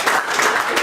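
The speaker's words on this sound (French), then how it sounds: "On peut les applaudir une dernière fois." Audience applause at a slalom motorsport podium ceremony, a short burst of steady, dense clapping from a gathered crowd, loud and close.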